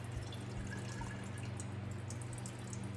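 Lemonade is poured through a strainer into a gallon jar, giving a faint, close trickle and drip over a low steady hum.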